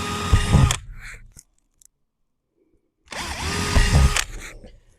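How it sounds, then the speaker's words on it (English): A power drill whirs loudly in two separate bursts, with a few seconds of near silence between them. "I'm gonna go ahead and drill my holes"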